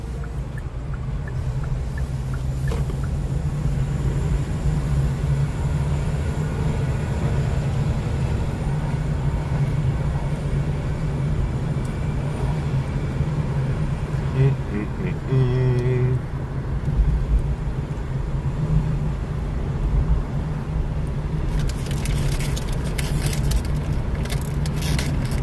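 Buses in city street traffic make a steady low engine rumble that stays near and loud throughout, broken by a few clunks and rattles partway through, with no voices.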